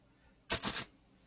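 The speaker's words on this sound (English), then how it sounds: "I'm going to shuffle these." Tarot cards being shuffled by hand, a short papery riffle of two quick bursts lasting under half a second, close and fairly soft against a quiet room.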